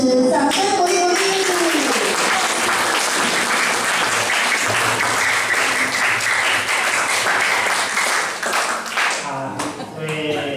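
A hall audience at an academy's year-end showcase breaks into sustained, dense applause for the next speaker, loud and even for most of the stretch before tapering off near the end.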